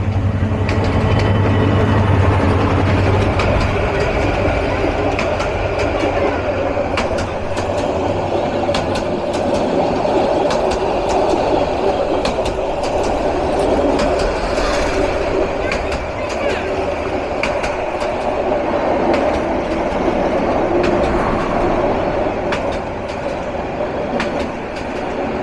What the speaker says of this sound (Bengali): intercity down Teesta express Narundi railway station থ্রুপাস করে যাচ্ছে